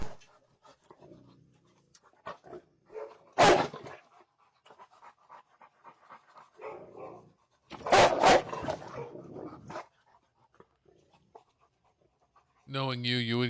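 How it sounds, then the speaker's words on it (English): Several dogs roaming a neighborhood pant steadily, with two loud bursts of barking and scattered short yelps; no one speaks over them. "We got the video of all 4 of Tyrese's dogs."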